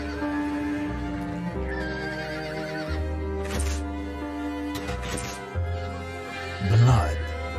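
A black horse whinnies in the video game Dracula: Origin over a dense musical backdrop, with a louder snort or neigh near the end.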